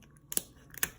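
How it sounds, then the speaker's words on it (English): Two quick crisp snips of kitchen scissors cutting through a lobster shell, close and sharp, about half a second apart. "What you're gonna do is get some scissors"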